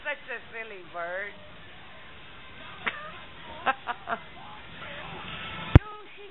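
Chi-Chi, a small pet bird, gives a few short squawking calls between bursts of nearby talk, ending with a sharp sudden click.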